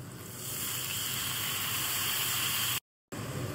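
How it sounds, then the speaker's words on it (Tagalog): Chicken broth poured into a hot pan with garlic, a steady loud hissing sizzle of liquid hitting hot metal that swells in and holds, with a brief dropout near the end. "And then add chicken broth."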